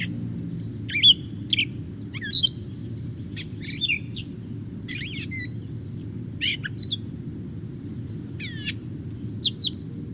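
A mimid songbird in early spring in Kentucky, singing a varied string of short, sharp chirps and whistled phrases copied from other birds, clear and fairly close over a steady low rumble of background noise.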